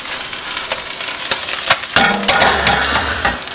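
A green onion and chive pancake (Busan-style dongnae pajeon) sizzles in oil in a frying pan, a steady close crackle with some stirring and clatter over it, no voices.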